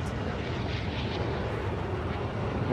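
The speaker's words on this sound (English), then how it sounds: "Got the heavy chopper up there." A heavy helicopter in the Call of Duty MW3 video game drones overhead, a steady, loud engine roar holding level throughout with no talking.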